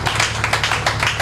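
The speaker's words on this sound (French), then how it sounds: "je crois, sous nos applaudissements pour l'encourager pour cette grande œuvre" Audience applause at the official launch of a counseling center in Kinshasa, brisk rapid clapping from a crowd, moderately loud and steady across the short moment.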